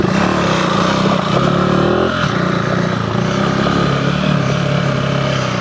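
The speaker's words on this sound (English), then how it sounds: "So 390 Enduro R, Trail A. We're gonna ride this thing as fast as we can." KTM 390 Enduro R motorcycle with a decat exhaust and DNA filter ridden hard on an off-road trail, its engine a loud, continuous close drone with slight shifts in pitch as it accelerates.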